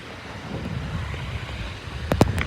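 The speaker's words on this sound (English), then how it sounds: "truly it's windy here. Wind here is much stronger" Strong wind blows across a mountain pass, a steady broad rushing roar with a few sharp gusty bursts near the end.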